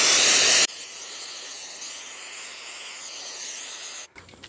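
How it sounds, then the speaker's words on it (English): Cleaner sprays onto a car's mass airflow sensor with a loud, close aerosol hiss that runs steadily for about three and a half seconds, after a brief louder burst at the start, then cuts off. "we're going to spray the sensor out, mass airflow sensor"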